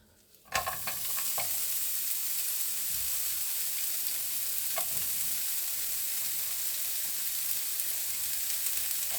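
Onion fries in hot oil in a pan, a steady, bright sizzle that starts suddenly and holds evenly, with occasional stirring clicks and pops.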